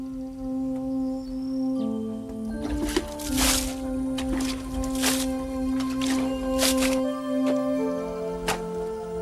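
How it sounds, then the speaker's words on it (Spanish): Wet clay mud from old rice terraces in Madagascar is mixed with water and kneaded by hand, giving repeated squelching, sloshing squishes in uneven bursts over a steady tonal background. "De estas terrazas se extrae el barro que se mezcla con agua, se amasa y se da forma a través de un rudimentario molde de madera"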